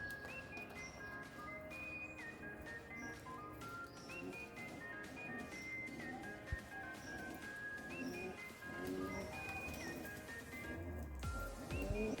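Black Siraji pigeons coo softly and repeatedly in a faint, low murmur, with light rustling and scattered small noises from the birds.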